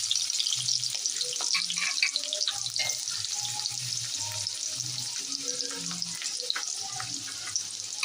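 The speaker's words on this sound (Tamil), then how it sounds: "வெங்காயத்தை நல்லா வதக்கிப்போம். பாருங்க வெங்காயம் நல்லா வதங்குது." Onions with fennel seeds sautéing in hot oil in a pan, a steady close sizzle and crackle throughout, with low clatters of stirring and faint background sounds.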